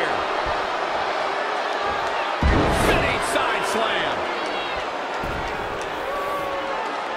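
A video game arena crowd in WWE 2K20 at an NXT women's tag team match, a continuous roar of cheering with a louder swell midway, heard under play-by-play commentary and impacts from the ring.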